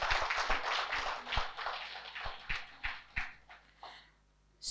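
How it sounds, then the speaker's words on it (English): An audience claps after a presentation at a bank's solar-to-health launch event: a modest, fairly quiet round that fades into a handful of separate claps with gaps between them. "I believe that presentation deserves a more resounding round of applause."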